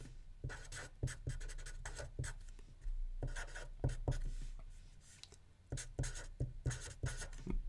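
Numbers being handwritten during a chemistry lesson on empirical and molecular formulas, with close, steady scratching strokes of pen or marker in short bursts and pauses across the whole stretch, no voice.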